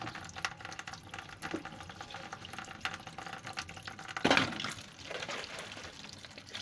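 Tigernuts are rinsed with water, with a jumble of close splashes and trickles, a louder surge of pouring near the middle, and softer sloshing afterward.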